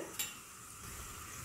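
Panch phoron spices sizzling in hot oil for a dal tadka, a soft steady frying hiss after a brief light clink, with no talking.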